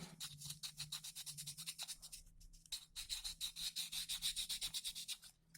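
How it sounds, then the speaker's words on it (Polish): Plastic model kit of a PZL P.11c aircraft being sanded by hand, quick rhythmic rasping strokes in close, even bursts, with a short pause partway through before the rubbing resumes. "Oczywiście całość trzeba przeszlifować. Hop, hop, hop. Szlifujemy."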